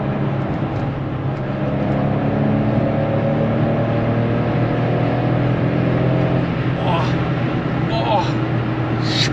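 A Porsche 911 cruises on a fairly busy German autobahn. Its engine holds a steady, full drone throughout, with a few faint higher whooshes from other traffic near the end.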